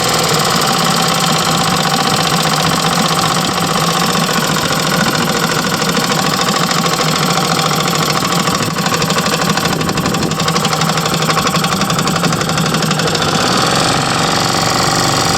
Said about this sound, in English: This one idles down quite well.